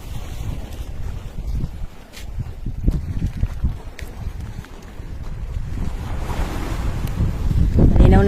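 Stormy sea at a rocky seashore, with waves surging and washing in under steady gusting wind buffeting the microphone, a continuous rough roar that builds toward the end, with no talk.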